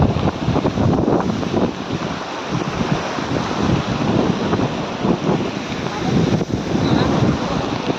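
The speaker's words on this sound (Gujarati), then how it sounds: "અહીં જો પાણી કેવું મસ્તીનું વહેતું આવે." River water rushing steadily near a dam, a broad continuous wash of flowing water with wind buffeting the microphone, loud and close throughout without pause.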